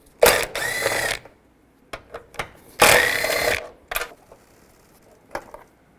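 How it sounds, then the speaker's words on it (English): Ratcheting 10mm socket turning out the two air box bolts on a 2010-2017 Chevrolet Equinox, heard as two longer close-up ratchet runs with several short clicking bursts between them. "There's 2 bolts right here. Take those out. Use a 10mm socket."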